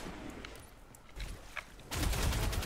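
Gunfire in the video game Destiny 2: scattered faint shots at first, then a loud burst of rapid automatic fire near the end.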